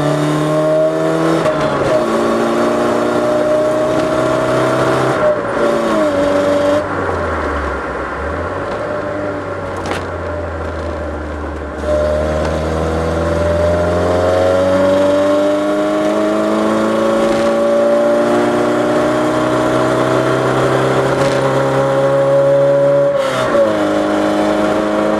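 A car's engine runs steadily while being driven after a Seafoam fuel and engine cleaning treatment, its low hum rising and falling through gear changes and revs, close and continuous with no talking.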